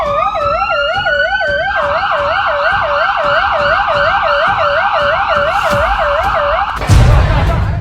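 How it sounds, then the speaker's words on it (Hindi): A wailing ambulance siren sweeps up and down steadily and loudly, close by, amid a chaotic crowd at New Delhi railway station's platforms during a stampede, and a burst of noise cuts in near the end. "एम्बुलेंस की आवाज कानों में गूंज रही थी।"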